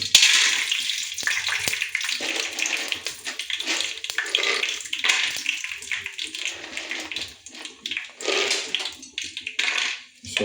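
Dry peanuts sizzling in hot oil in a pan, a loud, steady hiss and crackle up close that swells and dips in waves over the whole stretch, with no talking.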